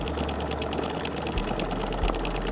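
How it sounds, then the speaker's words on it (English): A sewing machine runs steadily for freehand embroidery on a thrifted leopard-print vest, a fast continuous mechanical whir with a rapid needle chatter, close and unbroken, with a couple of faint low thumps. "I can go a bit quicker and then make more improvised artsy sewing with my freehand embroidery"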